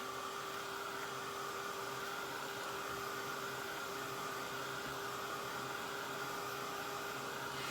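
A hair dryer blows continuously over a stamped artist trading card, a steady, even whooshing roar with a faint motor whine and no talking.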